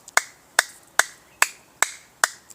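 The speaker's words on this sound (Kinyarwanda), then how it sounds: "Imana yarimbwiye ngo nkoma amashyi" Six sharp, evenly spaced hand claps, close and crisp, ringing out alone at a steady pace during a church prophecy and worship gathering.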